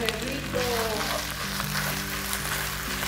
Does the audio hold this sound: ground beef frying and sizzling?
yes